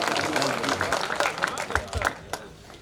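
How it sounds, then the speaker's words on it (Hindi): An audience at a poetry recital breaks into applause, scattered and then fuller clapping with a few sharp claps standing out, tapering off near the end. "एक बार आप तालियां वालियां बजा दीजिए"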